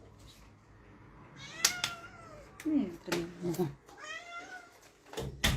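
A house cat gives several clear meows that grow into a drawn-out, wailing cry, with a few knocks and brief spoken words mixed in between the calls.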